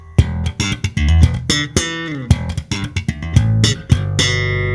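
A slap bass riff in major tenths, punchy plucked and popped double-stop notes in a syncopated groove, played alone and ending on a ringing chord.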